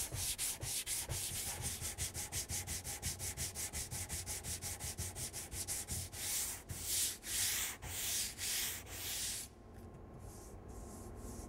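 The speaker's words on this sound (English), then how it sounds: "it's sanded up nicely" Steady rhythmic scraping of sandpaper on a flat block over wood veneer on a cabinet side, fast back-and-forth strokes that slow into longer, separate passes before stopping.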